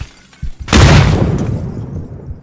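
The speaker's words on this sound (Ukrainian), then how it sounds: "А один на горбі стоїть, він кидає мене гранати." A grenade blast in PUBG bursts in loud and close after a couple of faint thumps, then a long rumbling decay that fades over about two seconds.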